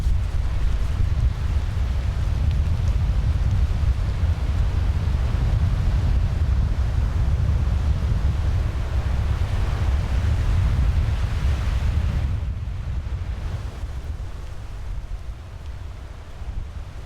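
Waves surge and break on a beach in a continuous deep roar, with heavy wind buffeting the microphone; the surf eases slightly toward the end.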